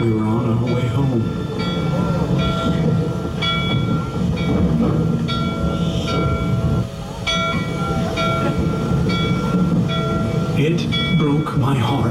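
A Polar Express excursion train rolls along steadily with rumbling wheels and rail noise, a person talking over the ride and brief tonal whistle-like notes.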